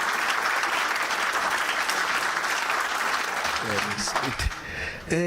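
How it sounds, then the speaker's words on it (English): A lecture audience applauds steadily with dense clapping, then the clapping fades as a voice starts speaking near the end. "So shall we give that another round of applause,"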